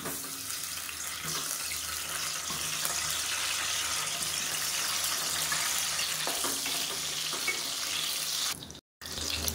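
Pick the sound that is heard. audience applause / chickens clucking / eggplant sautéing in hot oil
eggplant sautéing in hot oil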